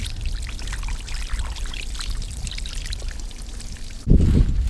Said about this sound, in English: We're going to take this bucket of creek water.